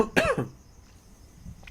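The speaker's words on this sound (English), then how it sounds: "sorry, I didn't mean to cough into the microphone" A single close cough right into a microphone, loud and sudden at the start, then fading into quiet room hiss.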